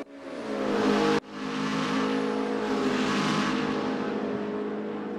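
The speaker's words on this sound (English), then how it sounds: "And through comes the Corvette of two-time Zero champion Matt Wheeler." A Corvette race car in a racing video game accelerates hard, its engine a loud, sustained roar that breaks off for a split second as it shifts and then keeps pulling near and steady, with no voices over it.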